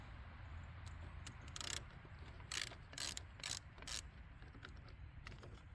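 A 10 mm ratchet wrench loosening the battery cable terminal on a 2006 Jeep Liberty, several short crisp clicking bursts close by over a low quiet hum, no talking.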